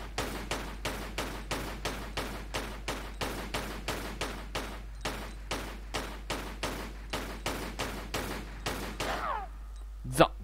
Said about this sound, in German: nehmen wir unsere Pistolen, stellen uns gegenüber von dem Gorilla, dass er wieder versteinert. Genau, und schießen ihn ab.